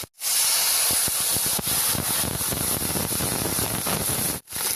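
Whole white cumin seeds hit hot oil in a pan with ginger, garlic and green chilies, giving a loud, continuous sizzling hiss close up that cuts off abruptly near the end.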